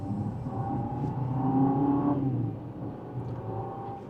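A 2026 Jeep Compass Trailhawk compact SUV pulls away from second gear, its engine note rising steadily and holding a strong, close rumble for about two seconds before easing off, with no talk over it.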